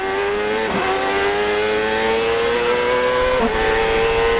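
A Honda-engined CART race car at the 1999 Long Beach Grand Prix street circuit revs steadily in second gear, its loud, continuous engine whine holding near with brief dips at two gear changes.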